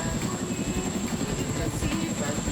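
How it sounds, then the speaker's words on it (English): CH-47D Chinook and AH-64D Apache military helicopters fly past in a state flag flypast, a steady dense rotor and engine roar that stays loud and constant throughout. "The CH-47D Chinook will be escorted by 2 AH-64D Apache helicopters in the state flag flypast."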